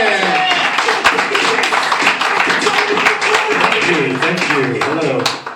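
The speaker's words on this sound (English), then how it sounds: "Start clapping right now. Make loud noise for Trace" A comedy club audience claps and cheers for a comedian being introduced, a dense, loud burst of applause with voices mixed in that fades at the end.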